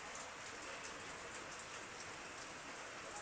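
Rain falls steadily during a strong typhoon, a soft continuous hiss with scattered drops pattering on a surface, fairly faint and even throughout.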